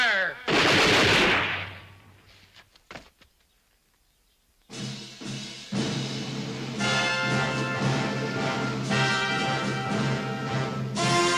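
A rifle volley cracks out loudly at once, then fades, followed later by heavy, sustained gunfire and rumbling battle noise up close.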